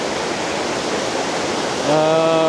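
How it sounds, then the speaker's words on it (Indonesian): River water rushes steadily near a waterfall during a river crossing on a mountain hike, a loud, close, continuous roar with a tonal whine entering near the end. "ini kita sekarang nyeberangin sungainya"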